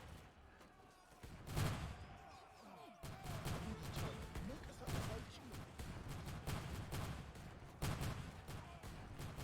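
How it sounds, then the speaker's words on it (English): Musketeers fire volleys at a surrounded Ethiopian army in a real-time strategy game, producing continuous crackling gunfire with sharper bursts layered over a dense battle din. "the Musketeers are now shooting at this Ethiopian army that is surrounded on all sides"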